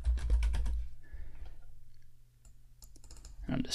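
Keys tapped on a computer keyboard in a quick cluster at the start, then a few scattered presses, close and fairly quiet with no talking.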